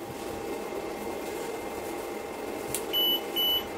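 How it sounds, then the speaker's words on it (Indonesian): Homemade gas leak detector alarm near a gas stove with LPG flowing unlit, a few short high electronic beeps sounding late over a faint steady room hum. "Alarm langsung bunyi ya, ada kebocoran gas atau gas yang mengalir."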